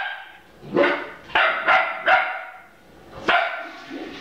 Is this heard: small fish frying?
no